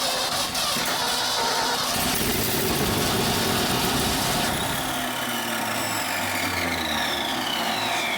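An old dump truck engine runs roughly at idle, a steady loud rumble with scraping and rasping noise on top that shifts partway through as the motor falters and won't stay running.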